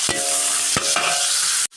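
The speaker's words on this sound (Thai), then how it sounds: "ผัดกะเพราหมูนะคะ" Pork with holy basil, meatballs and sliced long beans stir-fried in a hot pan, with sharp metal spatula scrapes and stirs over a steady loud sizzle, cutting off abruptly at the end.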